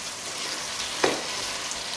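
Bottle gourd (lauki) crackles and sizzles steadily in a hot pan, with one brief scrape of stirring midway.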